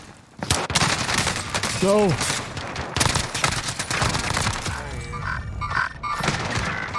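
Rapid gunfire in the video game Call of Duty on Rebirth Island, dense bursts of shots and booms throughout a close firefight, with a brief spoken word and in-game sounds over it.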